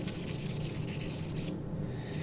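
Close, steady back-and-forth scrubbing of rust spots off a folding knife blade, a continuous gritty rubbing that lightens briefly near the end, with no voices.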